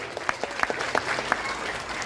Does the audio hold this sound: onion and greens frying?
no